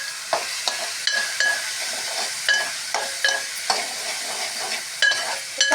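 Ivy gourd curry sizzles steadily in a pan while a utensil scrapes and stirs through it in repeated, rhythmic strokes, close and clear with no talking.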